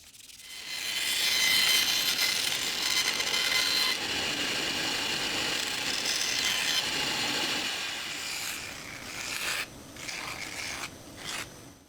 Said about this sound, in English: After sanding it back,